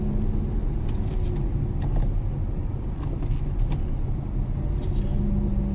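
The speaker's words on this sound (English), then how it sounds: "So an early evening drive along the coast here in Mazarron." A car cruises along the coast at Puerto de Mazarron in the early evening, making a continuous low road rumble and engine drone from inside the cabin with faint rattles and jingles above it.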